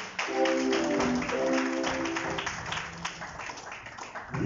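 A church congregation in a French-language worship service breaks into applause to acclaim God: a dense, steady wash of many hands clapping, with some sustained voices or tones mixed in early on.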